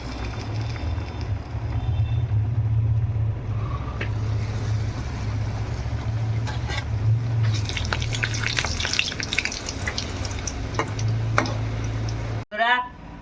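Luchi frying in hot oil gives a constant loud sizzle and bubbling close by, with occasional stirring and scraping, while people chat over the cooking.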